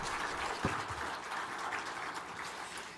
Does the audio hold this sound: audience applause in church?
yes